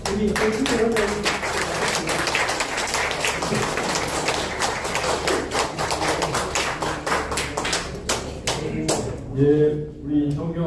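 Applause from a forum audience, a dense steady patter of many hands clapping nearby for about nine seconds, fading near the end as a voice begins to speak.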